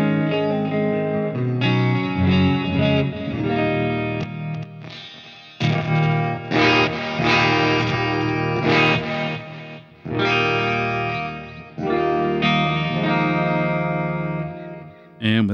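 Electric guitar played through a Line 6 Helix with delay and a touch of plate reverb, sounding as distorted sustained chords and ringing notes in several loud phrases separated by brief pauses, with echoing tails.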